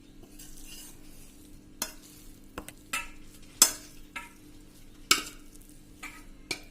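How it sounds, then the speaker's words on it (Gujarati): Green wheat jadariyu being stirred and mixed in a pan, with soft scraping under a faint sizzle and several sharp clinks and taps of a spoon against the pan at irregular intervals, close and with no talk. "હવે આ બધું આપણે મિક્સ કરી લેશું"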